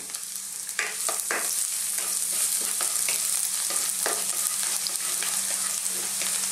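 Garlic frying in hot oil in a cooking pot, a steady close sizzle with scattered crackles and pops throughout and no talking.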